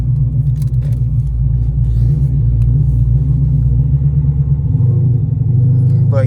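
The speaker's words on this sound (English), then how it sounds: "I can already tell an immediate difference in the responsiveness in the sound of the car" A car running on E85 fuel idles and pulls away with a steady low engine rumble, close and continuous, rising slightly in pitch near the end.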